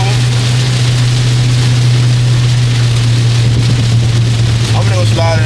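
Heavy rain pours steadily on and around a car, a dense constant hiss with a low engine hum underneath; a voice speaks briefly near the end.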